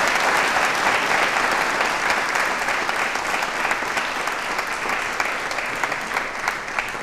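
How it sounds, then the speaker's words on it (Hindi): An audience at a college election quiz show breaks into loud, sustained applause, dense clapping filling the whole stretch with no talk over it. "जानकारी के लिए तालियां बजा लीजिए"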